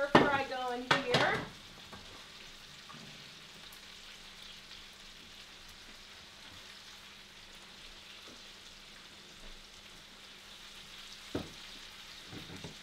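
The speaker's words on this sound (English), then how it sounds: "So now we're going to get our stir fry going here." A chicken stir fry for sweet and sour chicken: a loud clatter of food hitting the pan opens, then a quiet, steady low sizzle carries on alone with a few faint knocks.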